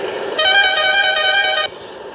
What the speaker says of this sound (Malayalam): എൻ്റെ എല്ലാ ഹോണും ഞാൻ ഒപ്പിച്ചു തരാം.